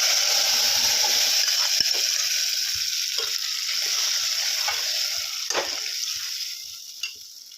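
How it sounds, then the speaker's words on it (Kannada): Boiled lentils hit a hot tempering of cumin, crushed garlic and curry leaves for a drumstick sambar, starting as a loud sizzle and stir that gradually quietens, with a few clatters of the pan along the way. "ಈಗ ಕುದಿಸಿಟ್ಕೊಂಡಿರೋ ಬ್ಯಾಳೆ ಹಾಕೋಬೇಕು"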